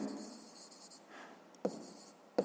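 Pen writing numbers in a fifth-grade math exercise notebook, a soft continuous scratching with two brief sharper taps, close and quiet, no talking.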